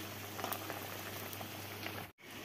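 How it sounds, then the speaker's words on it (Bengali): A fish curry with tender vegetable stalks and potatoes boils steadily in a pot, a dense, continuous bubbling hiss that holds close and even, then cuts out abruptly for a brief moment near the end. "কচি কচি ডাঁটা আর আলু দিয়ে এই যে মাছের ঝোল হচ্ছে।"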